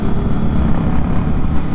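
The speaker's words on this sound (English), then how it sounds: "As far as exhaust goes, it's actually relatively quiet." A 2019 Indian Scout Bobber motorcycle's engine and exhaust hum at a steady, low rumble, close and continuous, with no voices over it.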